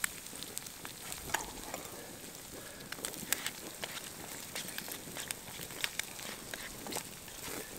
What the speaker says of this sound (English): I'm just gonna scramble them up.